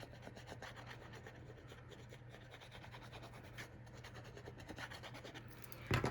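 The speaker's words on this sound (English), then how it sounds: "I'm going to go ahead and adhere that" A piece of paper card stock is rubbed down to stick it in place, giving soft, steady rubbing strokes that are close and faint, with a sharper handling noise at the very end.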